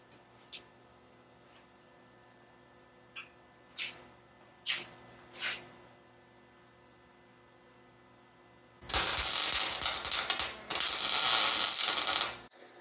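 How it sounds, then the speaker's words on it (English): Metal pieces being tack welded in place before clamping: a few faint clicks and taps, then two long bursts of loud, harsh crackling welding noise close by, with no talk. "Right now I'm just tacking these in place so that I can get the clamps all set up for both pieces."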